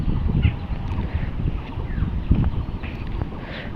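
Steady wind buffeting the microphone, a continuous rumbling rush with gusty swells, heard alone.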